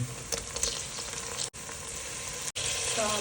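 Masala for coriander rice sizzling steadily in a hot pan, a continuous close frying hiss with faint stirring scrapes and two brief breaks in the sound.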